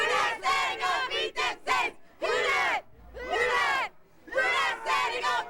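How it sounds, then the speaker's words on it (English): A packed bar crowd shouts and chants in loud, rhythmic bursts with brief pauses between them, many voices roaring together up close during post-game celebration of a football interception. "now the crowd is excited again"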